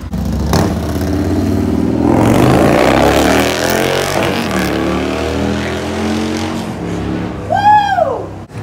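Harley motorcycles revving and pulling away in a parking lot at night, loud throaty engines rising and falling close by, ending with a sharp squealing sweep.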